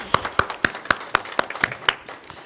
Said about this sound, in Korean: 주님께 영광의 박수를 함께 올려드리겠습니다